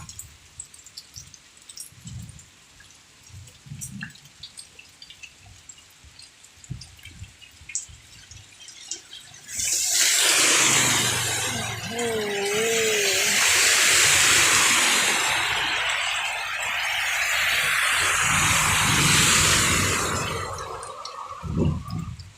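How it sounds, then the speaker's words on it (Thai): Heavy rain falls on a flooded housing estate in Bang Phli: there is quiet scattered dripping at first, then a loud, sustained rushing downpour that swells and holds for the rest. "ขอบคุณค่ะที่ติดตามรับชมฟังเสียงฝนกันนะคะ"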